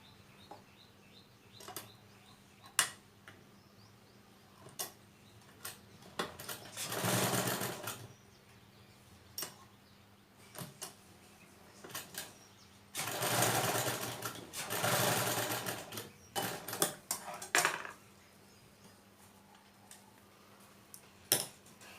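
A sewing machine runs in two sustained bursts while a sleeve is stitched onto a simple blouse, with clicks and handling noises in the quieter gaps between the runs.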